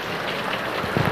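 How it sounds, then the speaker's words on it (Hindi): Heavy rain falls and drips inside a house, a dense, steady patter of water striking surfaces close by, continuous throughout with no voices. "इधर देखिए हमारे घर में कितना पानी अभी बरस रहा है"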